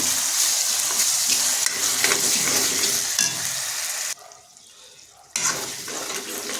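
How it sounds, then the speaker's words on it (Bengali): Chicken coated in ginger-garlic paste fries on a very low flame with no water added, a loud, close, hissing sizzle punctuated by stirring scrapes, briefly dropping away for about a second before resuming. "আদা রসুনের পেস্ট আমরা যোগ করেছি, তাই এটাকে ভালোভাবে হাতাতে মিনিট 3 ধরে লো ফ্লেমে কষিয়ে নেব"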